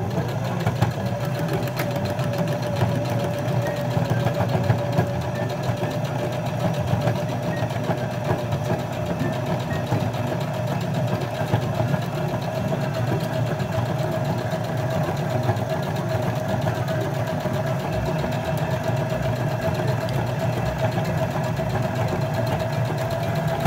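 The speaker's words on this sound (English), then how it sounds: "pull my sewing machine closer. Okay, let's go ahead and get that sewn" A sewing machine stitches fabric for a face mask, running steadily the whole time, a continuous close mechanical whir and hum with no pauses and no voices.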